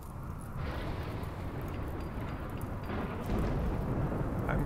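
Steady rain and rolling thunder of a storm in the colony-building game RimWorld, a dense continuous wash that swells louder near the end, with no talking.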